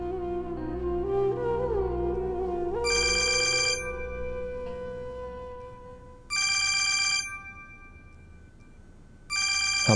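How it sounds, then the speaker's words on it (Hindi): A mobile phone rings with an incoming call, a bright electronic ringtone repeating in three distinct bursts over a quieter melodic background, with no talking. "हमाद का फोन है।"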